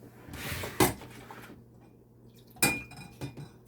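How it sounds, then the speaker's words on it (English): Jamaican peanut and oats porridge is whisked in a pot, with a whisk rattling and scraping the metal in close bursts and two sharp clanks standing out. "just whisk, whisk, whisk, whisk. Okay, let's keep whisking."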